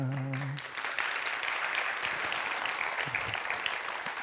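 After a short sung phrase, an audience at a live stage show breaks into sustained applause, a dense crowd of claps that continues steadily to the end.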